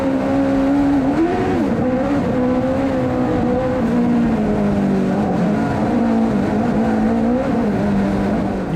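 A 2WD race car drives hard up the dirt roads of the Mt. Washington hill climb, its engine loud, close and continuous, with the pitch wavering as the driver shifts and modulates the throttle.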